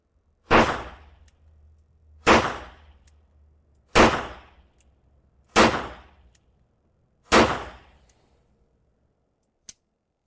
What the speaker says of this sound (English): Now let's shoot a bit more slowly,